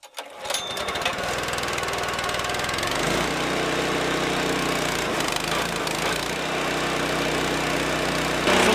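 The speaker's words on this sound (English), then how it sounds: "So put this thing on choke, turn the engine on and pull it." A greens roller iron's small engine pulled to start on choke in a garage, catching after a brief rattle and then running loudly and steadily in a buzzy, mower-like drone that continues to the end, with no speech.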